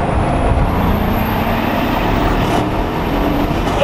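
Bugatti Chiron quad-turbo hypercar with 1,500 horsepower accelerating, a loud, steady broadband engine and road roar with a high whine running throughout, no voices.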